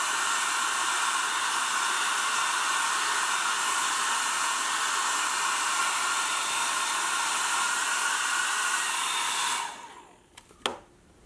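A hair dryer blows steadily and loudly on fresh paint on a hand-carved wooden cane, a constant whooshing roar that cuts off near the end, followed by a couple of faint clicks.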